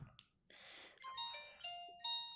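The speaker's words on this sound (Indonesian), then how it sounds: "dengan bunyi ciri khas Nokia" A Nokia 105 phone powers on and plays its startup tone, a short sequence of clear chiming notes that step upward and hold, heard close and fairly faint after a few brief clicks.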